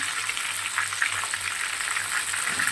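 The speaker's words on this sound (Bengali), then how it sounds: "দেখো পটলটা একটা সেরকমভাবে ভাজা হয়ে গিয়েছে" Pointed gourd (potol) fries in hot oil for a dorma dish, giving a steady, close sizzle with a soft crackle that holds evenly throughout and has no talking over it.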